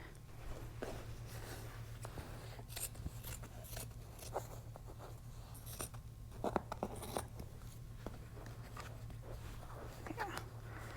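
Scissors snipping away bulky fabric on a folding chair during a makeover, a handful of short crisp cuts scattered over a quiet room hum, close and fairly soft.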